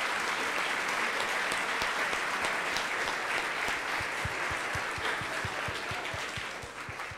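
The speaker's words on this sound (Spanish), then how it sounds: "Un fuerte aplauso, se queda en el lugar 24." Sustained audience applause at a programming competition closing ceremony, a dense, even wash of many hands clapping that carries on for the whole stretch and tapers slightly at the end.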